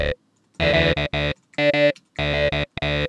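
A harsh, buzzy distorted synth plays short chopped notes in a rhythmic pattern, with brief silences between bursts.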